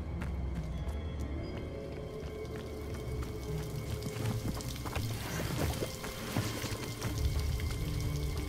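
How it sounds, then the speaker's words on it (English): Waterfall in Hogwarts Legacy, a constant rushing and splashing of falling water that holds steady at moderate loudness throughout, with small droplet-like spatters scattered through it. "The waterfall."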